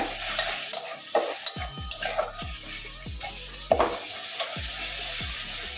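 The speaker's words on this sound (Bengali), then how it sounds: "এবারে ভালো করে কষিয়ে নেবো আবারও" Spice paste for okra and masoor dal being stirred and fried in an oiled pan, with repeated scraping strokes of a spoon in an irregular rhythm over a steady sizzle, close and moderately loud.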